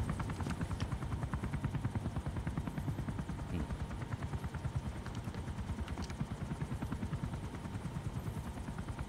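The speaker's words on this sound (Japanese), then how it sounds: "おい待て、ヘリを壊すな。" A helicopter in the video game Metal Gear Solid V whirs with steady rapid rotor chopping at a constant moderate level, with no speech over it.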